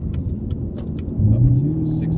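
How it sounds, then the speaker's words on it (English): A 2017 Chevy Camaro SS engine rises in pitch as it accelerates to 65 on the highway, the low droning tone climbing and growing slightly louder midway, heard from inside the car. "So let's see how it accelerates."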